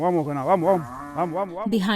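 Cattle on a Colombian grazing ranch moo in long, wavering, overlapping calls, several loud and close animals lowing one after another with little pause, suggesting a waiting herd of about a hundred cows.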